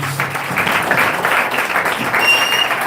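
A church congregation claps and cheers in a dense, continuous wave of applause that fills the room at close range.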